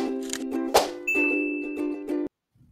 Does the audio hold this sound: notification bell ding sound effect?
yes